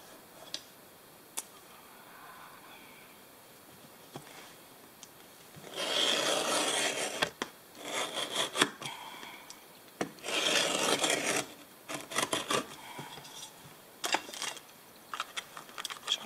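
Blade drawn through soft, slightly slippery leather along a ruler while making a paperback book cover, heard as two sustained rasping strokes of a few seconds each, close and fairly loud, with small ticks and scrapes of handling between them and no talk.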